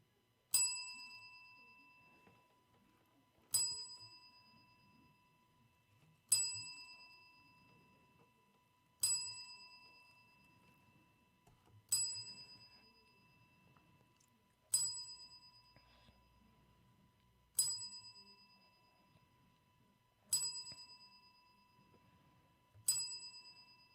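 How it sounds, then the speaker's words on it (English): Ten evenly spaced strikes of a ringing bell, each a bright ding that decays slowly, sound alone over a quiet background as a ceremonial salute honoring a deceased professional wrestler. "we're going to give Rocky Johnson a 10-bell salute, as we do for every great professional wrestler that passes away"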